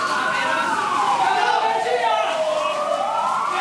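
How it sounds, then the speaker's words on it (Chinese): Fire engine sirens wail at a night fire in an old two-storey house with wooden upper floors in a narrow lane. The loud, sweeping tones rise and fall and overlap one another without a break. "消防警笛声大作"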